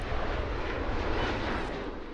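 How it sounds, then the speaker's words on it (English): Airplanes come in to land on the runway at Delhi's international airport, a loud, continuous jet roar of engine noise heard close by, broad and steady with no voices. "It's the perfect spot in the evening to watch planes land."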